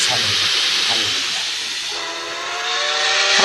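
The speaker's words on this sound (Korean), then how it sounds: "기차는 달린다." A steam train runs with a steady, loud hiss of escaping steam throughout, and a sustained steam whistle sounds in the second half, close and prominent over the rushing noise.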